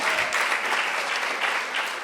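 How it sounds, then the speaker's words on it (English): An audience at an indoor fall festival gathering claps steadily, a dense, even wash of applause that holds for about two seconds at moderate volume with no voices on top. "I think that we're going to have a lot of applause tonight"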